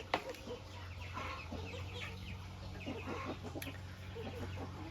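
Turkeys resting after feeding on a farm give off soft, scattered clucks and low chatter throughout, a steady flock murmur with no voices.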